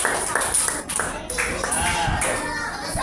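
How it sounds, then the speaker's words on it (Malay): Children clap their hands together in a classroom setting, a steady crackling burst of applause that runs throughout at close range, with a few young voices mixed in beneath the clapping. "Tepuk tangan"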